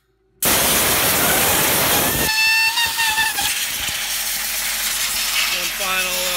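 A sharp burst of compressed air hisses loudly while blowing dust out of an AntMiner S9 crypto miner, then continues as a strong, steady rushing blast with faint whistling tones, close to the listener.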